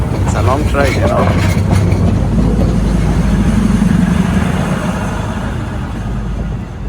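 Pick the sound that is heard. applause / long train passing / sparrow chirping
long train passing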